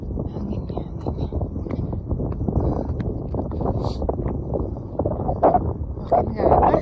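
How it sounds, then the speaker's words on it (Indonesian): Strong wind buffets the microphone on the Beehive trail canyon hike near Page, Arizona, a gusty low roar that rises and falls, with people talking over it. "Aduh, anginnya."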